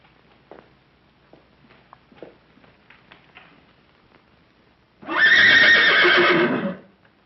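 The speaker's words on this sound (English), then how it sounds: "Where is his horse?" A horse inside a house library, in the 1936 film My Man Godfrey, lets out one loud, sustained whinny lasting over a second after quiet, faint background sounds.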